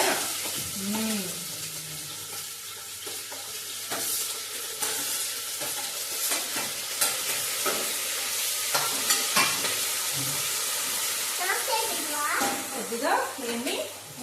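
Onion pieces frying in a pot for chicken biryani, a continuous sizzle with stirring clatter, while a person talks intermittently over the cooking.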